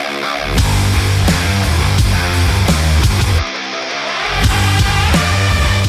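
Loud, dense Doom-style heavy metal arrangement of the Hades video game soundtrack, with driving distorted guitars and pounding drums, briefly dropping out for a moment before crashing back in.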